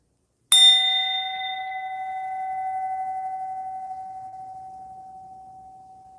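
A large meditation singing bowl is struck once with a mallet, giving a bright attack and then a long, pure ringing tone that slowly wavers and decays over several seconds in a quiet room.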